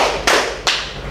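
A school class performing a rhythm clap, two sharp unison claps spaced about a third of a second apart, loud and close in a room.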